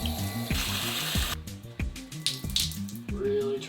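A washed item being lathered and squeezed out, with wet squelches and water dripping and running in a sink, heard close over a low rhythmic mechanical hum.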